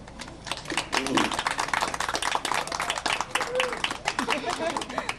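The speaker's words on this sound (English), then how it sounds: "I think they deserve a round of applause" At a nursing capping ceremony, the audience claps for family members, a lively, irregular patter of many hands building after a quiet start, with some voices mixed in.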